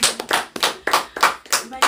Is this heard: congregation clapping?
yes